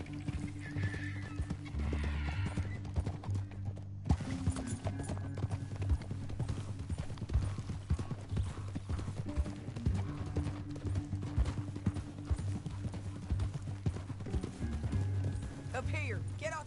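Horse hooves clip-clop steadily and close by in the video game Red Dead Redemption 2, with whinnies breaking in and voices talking over the trotting.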